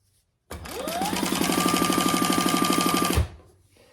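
Sewing machine stitching coral fabric into piping, one steady run of rapid, even needle clatter starting abruptly and stopping after a few seconds, close and alone.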